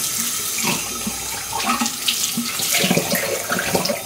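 Tap water runs into a bathroom sink, splashing and gurgling irregularly as hands rinse melted makeup from a face, close by, with no talking.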